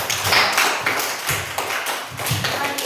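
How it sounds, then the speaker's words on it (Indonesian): Students in a classroom clap for a group after its presentation, a steady dense patter of many hands close by that swells in repeated waves with no talk over it. "kasih tepuk tangan dulu untuk kelompok 2"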